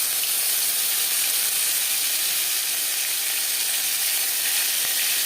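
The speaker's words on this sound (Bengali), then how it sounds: "আলু ভেজে নেওয়া কড়াইতে আবারও তেল দিয়েছি, দিয়ে দিলাম 5 ফোড়ন।" Panch phoron spices fry in hot oil in a wok, giving a loud, continuous sizzle with bright crackling hiss that holds evenly throughout, with no voices.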